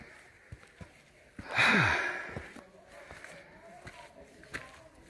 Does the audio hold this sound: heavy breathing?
yes